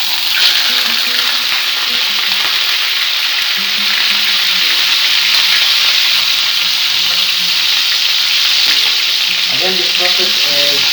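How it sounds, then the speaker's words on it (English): Meat fries for Yemeni mandi with a loud, even sizzle and crackle close by, and a few soft clinks near the end. "I'm trying to fry my meat."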